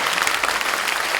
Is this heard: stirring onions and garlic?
no